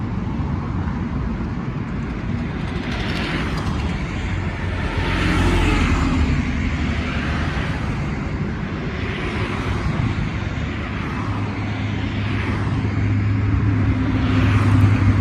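A car drives through rainy city traffic with a steady, continuous road and engine rumble and broad wet hiss, with passing vehicles swelling at intervals and a low hum rising toward the end.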